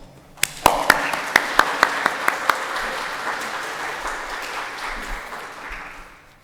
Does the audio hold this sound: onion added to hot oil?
no